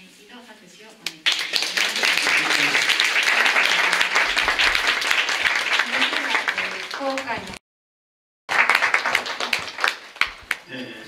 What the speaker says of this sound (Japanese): 宮本先生に今一度拍手をお願い